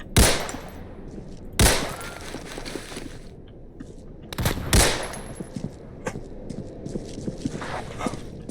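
Sniper gunfire in the Roblox-style shooter Criminality: a few loud, spaced rifle cracks with scattered smaller pops and clicks of game action between them, close and unaccompanied by talk.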